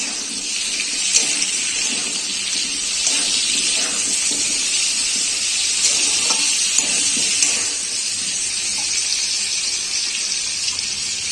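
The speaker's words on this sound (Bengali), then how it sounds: "আলুটা ভাজা হয়ে গেছে এবার আমি টমেটোগুলোকে কুচি করে রেখেছি সেটাকে দিয়ে দেবো" Potatoes and chopped tomatoes fry in a pan with a steady, even hiss that stays close and constant, broken only by faint crackles and with no voices.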